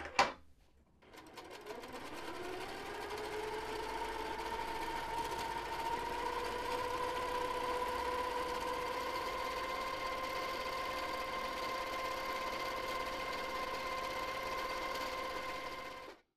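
A sewing machine runs steadily while quilting a block, opening with a brief click, then a continuous even mechanical hum for about fifteen seconds, close and alone with no talk.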